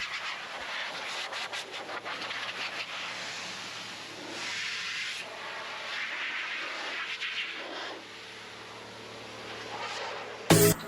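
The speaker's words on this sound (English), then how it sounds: "This is a heated filtered system, so this guy will help evaporate as well as dry the vehicle." Steady hissing rush of a heated filtered air dryer blowing over a vehicle during cold-weather detailing, continuous and moderately loud, with a brief sharp noise near the end.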